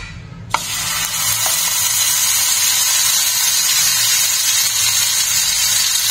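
A paste of green chilli, onion and garlic hits hot oil with a sudden splash, then fries in a loud, steady, close sizzle for several seconds.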